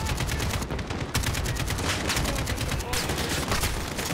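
Dense, continuous automatic gunfire in Call of Duty: Modern Warfare, loud and close, with rapid bursts overlapping into a steady clattering roar throughout, with speech mixed in.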